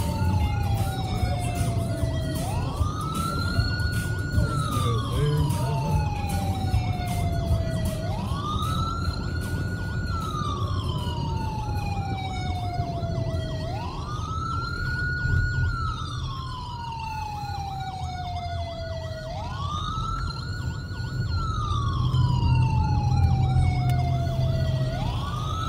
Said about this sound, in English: The siren turned off, Officer Anderson.